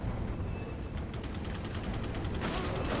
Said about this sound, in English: Turrets. Mounted machine guns.